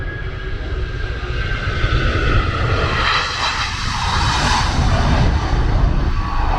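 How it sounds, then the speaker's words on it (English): AirAsia Airbus A330 jet passing low overhead near an airport in Kota Kinabalu, a loud swelling engine roar with a whooshing rise and fall as it flies by, steady throughout. "There's an A330 heading to Kuala Lumpur on its way."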